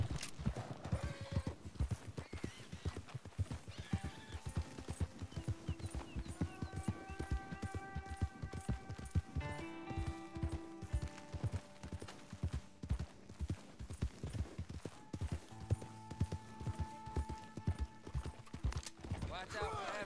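Horse hooves clip-clopping in a rapid, steady gallop in Red Dead Redemption 2, close and continuous, with faint in-game music tones underneath.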